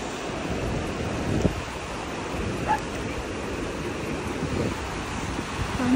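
Sea waves wash onto the sand at Harlyn Bay beach in Cornwall, a steady broad hiss of surf mixed with wind buffeting the microphone, with a faint distant bark now and then.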